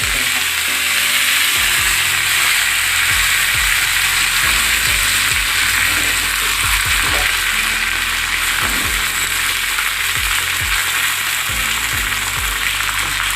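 Mustard seeds and fenugreek sizzle loudly and steadily in hot oil for a tomato curry tempering, with scattered low pops and thumps throughout and no talking.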